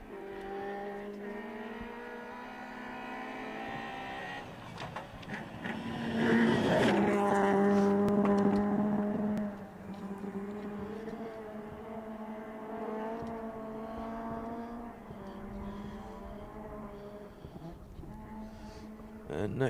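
A Peugeot 208 rally car races past on special stage SS4 at Clatterin Kist, its engine note rising to a loud, close peak and then fading away. A commentator's voice talks over it.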